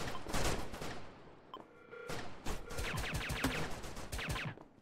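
Rapid bursts of video game gunfire during a bank heist, loud and close, with a brief lull before sustained volleys resume.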